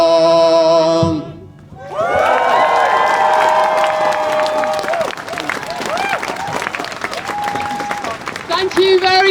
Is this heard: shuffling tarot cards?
no